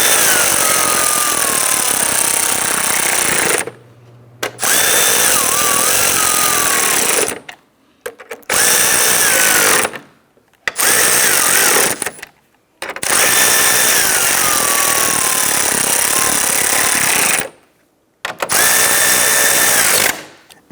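A power drill runs in repeated long bursts, snugging down bumper bracket bolts on a 2011-2019 Ford Explorer, loud and close, with short silent pauses between each whirring run.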